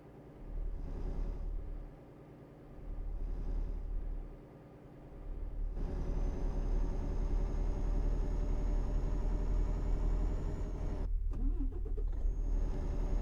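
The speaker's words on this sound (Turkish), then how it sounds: "Acaba çekicinin sesini, çekici motor sesini biraz kısabilirdim ya." A heavy Volvo truck engine in Euro Truck Simulator 2 drones steadily at close range, dipping briefly before settling into a constant loud rumble.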